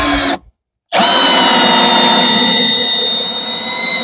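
A power drill drives a 2.5-inch screw into hard cherry wood, whining loud and close with a steady high tone for about three seconds after a brief pause.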